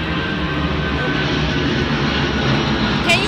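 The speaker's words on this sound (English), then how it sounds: "Oh my god, that airplane!" A fixed-wing airplane roars low overhead near JFK airport in the rain, a loud, steady engine rumble that fills the whole clip, with a person exclaiming over it.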